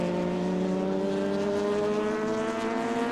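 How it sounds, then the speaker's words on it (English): A Porsche 962 race car engine drones steadily with strong harmonic tones as it pulls off the circuit at a historic racing event, moderately loud and unbroken with no voices. "it is the Porsche 962 loping off now"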